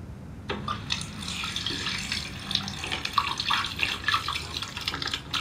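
Tap water runs steadily into a sink while hands are washed, a continuous splashing flow with small irregular spatters and drips, close and fairly quiet.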